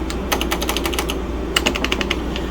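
Brisk keystrokes clack on a vintage Apple IIe keyboard in two quick runs of taps with a short pause between, close and clear with no talking.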